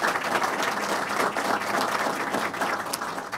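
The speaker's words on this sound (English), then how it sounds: "Give her a round of applause." Steady round of applause from an audience at a chamber of commerce legislative breakfast, dense clapping sustained evenly for a few seconds without talk.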